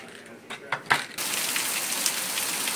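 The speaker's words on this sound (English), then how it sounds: "it is still pouring down rain" Heavy rain pours down on an August evening, a dense, steady hiss that takes over after about a second and runs unbroken to the end, following a few brief louder bursts at the start.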